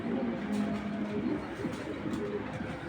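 A male racer pigeon coos repeatedly, close by, in low rolling throaty calls.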